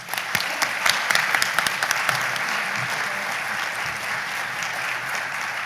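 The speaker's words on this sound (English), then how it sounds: "let's give them one last round of applause." Enthusiastic audience applause for speech competition finalists at a Rotary event in Jacksonville; crisp individual claps early merge into a full, steady round of clapping that continues loudly.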